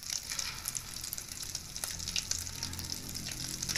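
Egg batter fries in hot oil, giving a soft, steady crackling sizzle with small pops, fairly quiet and close, no talking.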